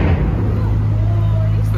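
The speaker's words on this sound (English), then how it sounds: "The banging you can hear is the cars above me." Road traffic on a road overhead rumbles low and continuous, heard from below beside a river lock, with a faint passing vehicle and distant knocks; a voice talks over it.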